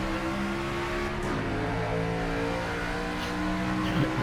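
A race car engine in the NASCAR 25 video game, an Xfinity race at Homestead, drones at steady high revs, a continuous loud engine tone with faint shifting pitches from nearby cars.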